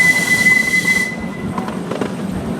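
A ride-along train rolls into a tunnel, its steady rumble and rail noise dropping in brightness as it enters, with faint wheel squeal and clatter continuing close by.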